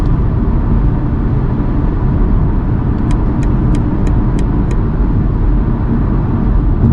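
Steady, loud broadband roar of cars driving past on a busy multi-lane motorway, heard continuously with no talk, plus a brief run of faint high ticking near the middle.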